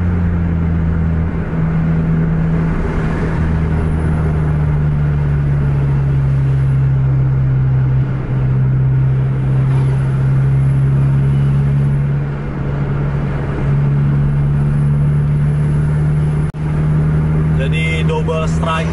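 A bus racing hard on an Indonesian highway near Langsa, its engine droning loud and steady at full throttle for the whole stretch, with a deep constant roar under road and wind noise.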